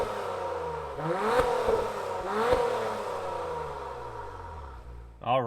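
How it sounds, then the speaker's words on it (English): A 2021 Acura TLX Type S engine revs twice in quick rising blips while stationary before a launch-control start, then settles back to idle and gives a short sharp rev at the end, heard fairly close from inside the car. "We are going to do a launch control in the TLX Type S"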